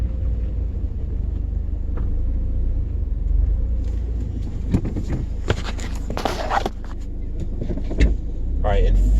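2001 Audi TT turning slowly after a Haldex grinding repair, a low steady engine rumble with no grinding, a few light clicks and scuffs near the middle, and a voice speaking briefly near the end.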